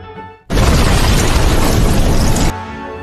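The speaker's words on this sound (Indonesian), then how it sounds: "Lalu bom meledak dahsyat yang menewaskan Modi dan Edward." A bomb explodes in a film with a sudden, massive blast that roars at full loudness for about two seconds before cutting off abruptly.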